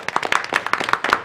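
Brief burst of audience applause at a city commission meeting, a dense patter of claps from a modest group in a meeting room, held steady for about a second.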